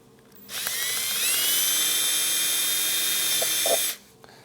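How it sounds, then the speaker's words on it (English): A power drill with a small bit, about a sixteenth of an inch, whirs steadily for about three and a half seconds, starting and stopping abruptly, loud and close. "Here, you just take a drill bit."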